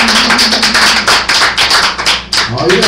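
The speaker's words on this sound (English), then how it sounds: "give the Father a hand clap" A congregation clapping at a church service, rapid rhythmic hand claps in a steady stream, loud and close, with voices mixed in.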